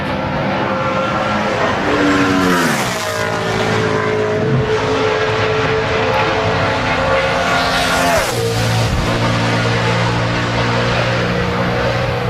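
NASCAR Sprint Cup stock cars on track at Homestead-Miami during qualifying for the Ford 400, loud engine roars sweeping past with rising and falling pitch, two prominent pass-bys around a steady drone.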